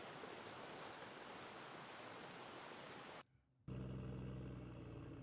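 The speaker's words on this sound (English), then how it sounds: "I got some water flowing." Water flowing steadily as a broad hissing rush, cut off abruptly for a brief quiet gap before a louder low rumbling sound takes over.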